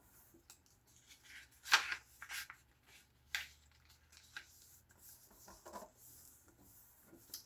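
Sheet paper creased and folded by hand while making a retro 1950s housewife-style paper dress, with soft scattered rustles and a few sharper crisp crinkles, close and quiet with no talking.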